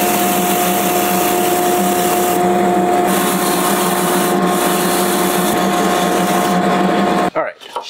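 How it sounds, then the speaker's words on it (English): A moving belt sander grinds a wooden guitar neck block in a workshop, giving a loud, steady whir with a constant tone that runs unbroken for several seconds before cutting off near the end. "then here on this moving belt sander, and then bring it down until I reach the center of the line"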